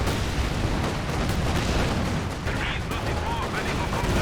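Incendiary artillery barrage in Company of Heroes 2, a dense, continuous roar of overlapping explosions and crackling bursts throughout, loud and sustained with no pauses.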